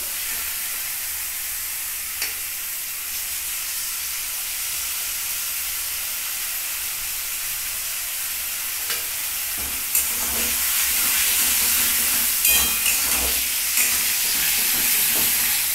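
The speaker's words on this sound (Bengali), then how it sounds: "এবার আমার টমেটোটা আমি দিয়ে দেবো।" Tomato goes into a sizzling pan for achari katla curry, giving a steady broadband hiss and sizzle with a few scrapes and clicks, growing slightly louder toward the end.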